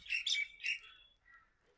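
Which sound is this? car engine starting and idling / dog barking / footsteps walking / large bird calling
large bird calling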